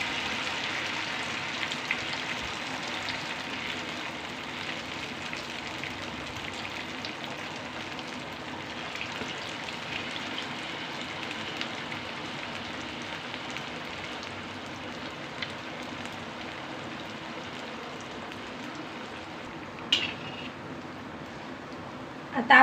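Masvadi rolls dropped into hot oil fry with a steady, dense crackling sizzle throughout, fairly close and moderately loud, with a brief sharper clatter near the end.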